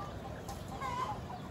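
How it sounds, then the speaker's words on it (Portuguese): Soft hen clucks come and go over a steady outdoor background in a backyard in the Amazon, faint and fairly close, with no talking. "Olha a galinha aqui."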